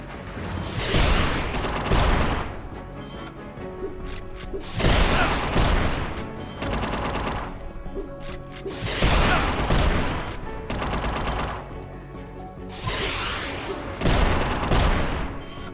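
Sustained bursts of heavy gunfire in UNMETAL, many bullets fired in loud, dense volleys that come in waves, each salvo lasting a couple of seconds before a brief lull and the next barrage.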